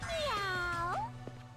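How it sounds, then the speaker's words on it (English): A single drawn-out cat meow from the video game Danganronpa 2, loud and close, rising then falling in pitch before a quiet tail of background hum. "Meow. Why you meow at me?"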